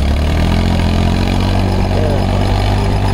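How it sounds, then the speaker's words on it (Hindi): A 35 HP tractor engine running at high RPM while pulling a 7-foot rotavator through a field, a loud, steady, low diesel throb that stays constant across the whole stretch, close by, with nothing else cutting through it. "ये जो इस टाइम बढ़िया RPM के साथ चल रहा, इतना लोड लेके चला है नॉर्मल रोटावेटर पे ट्रैक्टर"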